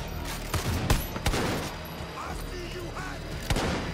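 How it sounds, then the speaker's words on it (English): Gunfire in the video game Far Cry New Dawn, several sharp shots cracking over a dense, loud game soundscape with rumbling ambience, and someone talking briefly. "I'm shooting at a turkey."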